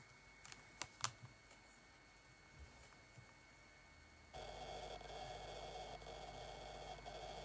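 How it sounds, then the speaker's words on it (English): Someone types a message on a computer keyboard, a few quiet clicking keystrokes near the start, followed by a steady hiss of background noise. "I'm typing a message back to my brother"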